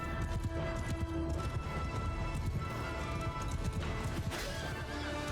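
Hoofbeats of a horse galloping in the Mount & Blade II: Bannerlord video game, a steady busy clatter of clip-clop close by, mixed with battle noise, a whinny and crashes, with no talk.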